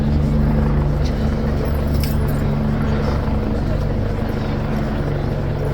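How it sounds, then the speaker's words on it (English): A police helicopter hovers directly overhead, a steady loud rotor drone with strong low thumping that fills the whole clip alongside faint street noise. "And the helicopter's hovering right above."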